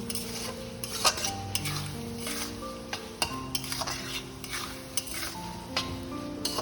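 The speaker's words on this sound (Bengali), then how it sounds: "এবারে এটাতে আমি ভালো করে টস করে নিচ্ছি" Chowmein vegetables with sugar tossed in a hot pan, metal spatula scraping and clanking rhythmically against the pan over a steady close sizzle, no voices.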